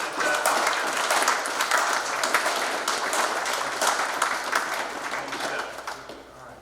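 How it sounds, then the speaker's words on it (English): Sustained applause from a large crowd at a US Army Corps of Engineers change of command ceremony, steady and dense clapping that fills the room for several seconds before beginning to taper off. "So please join me in a round of applause for Joyce and the team."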